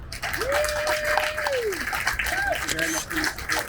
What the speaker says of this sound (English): Another round of applause for the winners.